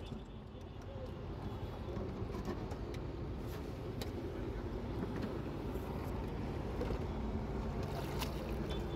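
A fishing trawler's engine drones steadily and close by for the whole stretch, a continuous low rumble with a faint hint of voices in the background.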